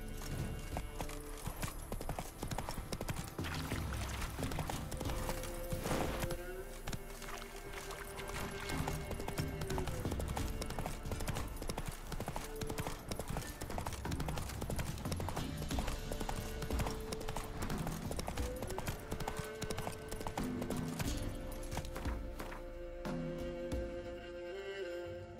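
Galloping horse hooves from The Witcher 3: Wild Hunt, a steady, fast clip-clop running under a dense, continuous game soundtrack and ambience that stays loud throughout.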